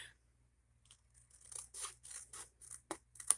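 Scissors snipping through paper for a gift box, a series of short crisp cuts growing louder after a quiet start, close up with no talking.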